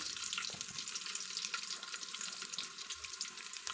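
Garlic frying in a hot pan gives a steady, close sizzle with crackly high hiss throughout, uninterrupted by voices.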